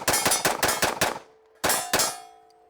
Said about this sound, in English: we're gonna shoot a Nighthawk Custom. This is a very popular 1911 manufacturer, 10-round magazine, 45 ACP